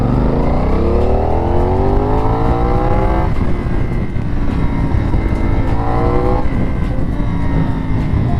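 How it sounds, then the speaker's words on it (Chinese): A CFmoto 450NK motorcycle engine revs hard twice, its loud, close exhaust note climbing in pitch with each blip before dropping back to a rough idle. "声浪，回个火，谢谢。"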